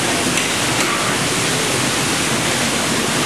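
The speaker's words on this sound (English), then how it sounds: "so that the water is coming between the crevices of the two stones, just as it would in nature" Water spilling between two stones in a natural stone backyard waterfall by a pond, a loud, steady wash of rushing flow that fills the whole moment without a break.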